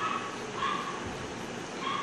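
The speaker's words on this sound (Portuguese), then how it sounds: "Tem um cachorrinho enjoado, latindo ali." A small dog barks off in the distance, a few short yapping barks spaced across two seconds over a steady room hum.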